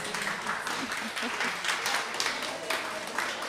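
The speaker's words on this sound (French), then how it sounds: "vous pouvez les applaudir." An audience at a French media-initiation event applauds, producing a dense, steady wash of many hands clapping that holds evenly across the whole stretch, with faint voices underneath.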